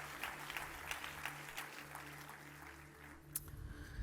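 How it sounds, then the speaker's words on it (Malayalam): A church congregation claps in thanks to the Lord, a quiet, scattered patter of applause that rises briefly toward the end. "ഇനി ഒന്ന് കൈയടിച്ച് കർത്താവിന് നന്ദി പറ."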